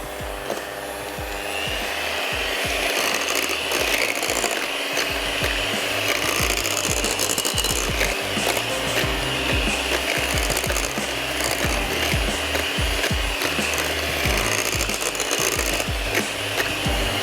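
An electric mixer whirs steadily through cream with vanilla essence in a bowl for cupcake batter, a continuous buzzing drone with scraping rattle, close and loud, with no talking.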